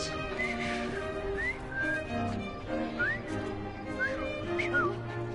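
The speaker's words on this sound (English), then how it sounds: "I've just learned to whistle." Whistling in the video game Assassin's Creed Syndicate: a series of short, rising and sliding whistled notes over a busy background of layered tones and ambient game noise.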